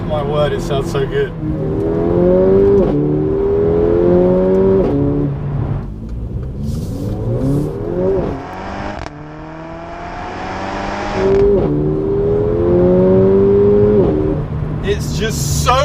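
Mercedes A45 AMG engine pulling hard through gears, rising revs punctuated by upshift drops and pops, loud inside the cabin with people speaking over it.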